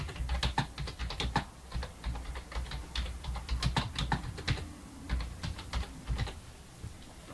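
Steady typing on a computer keyboard, with quick irregular key clicks in bursts and brief pauses, close and fairly crisp, with no voices.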